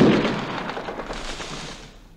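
An explosion sound effect comes through a phone line: a loud low boom at the start, then a rumbling decay that fades over about two seconds.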